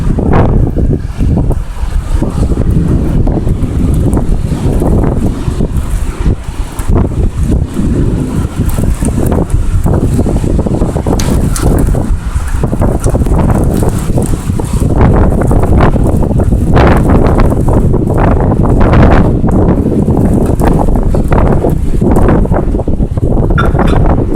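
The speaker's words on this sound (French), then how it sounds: "le vent par contre il augmente" Strong, gusting wind battering the microphone during a violent thunderstorm in Amiens, a loud continuous roar with surging blasts and rumbling buffeting that fills the whole recording, with no voices.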